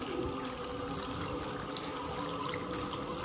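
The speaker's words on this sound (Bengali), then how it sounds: "আচ্ছা ফলগুলো এবার আমি সব কিছু করে ধুয়ে রাখবো।" Apples, oranges, bananas and avocado washed under a running kitchen tap: a steady, close rush of water splashing into a sink, with faint drips and knocks throughout and no voices.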